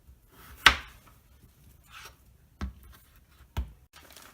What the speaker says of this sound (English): I'm going to cut this half onion in half